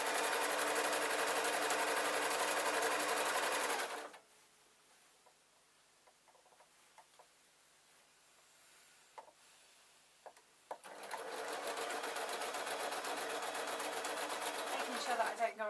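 A sewing machine stitches trouser lining in a fast, steady whir, stops for a quiet stretch of soft handling clicks and rustles, then starts again at the same dense, even pace.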